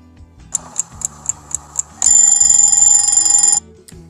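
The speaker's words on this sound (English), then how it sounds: "The alarm clock rings and Clifford wakes up." A few light ticks lead into a loud, continuous electronic alarm clock ring lasting about a second and a half, then stopping.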